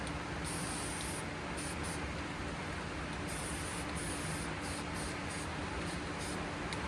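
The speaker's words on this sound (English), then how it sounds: "Hit it with a little bit of that black spray paint." A continuous black aerosol spray paint can hisses steadily and close, with short pulsing bursts as the nozzle is pressed.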